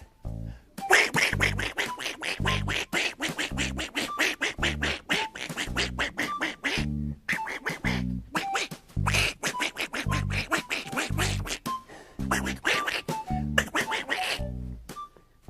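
Repeated duck quacks from a children's farm-animal programme, coming in a steady rhythmic series of loud, close bursts that run almost continuously with short gaps and little else around them.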